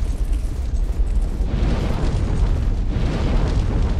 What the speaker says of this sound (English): A little bit of fire, I would say.